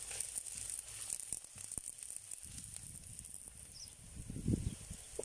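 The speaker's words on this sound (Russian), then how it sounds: "Затем отправляем морковь с луком. И обжариваем в течение минуты 2-3." Carrot and onion fry in oil in a kazan over an open fire in a village, a quiet, steady sizzle and crackle with a few faint stirring clinks and scrapes.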